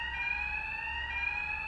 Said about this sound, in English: When the alarm sounds, you should know where you need to go at all times.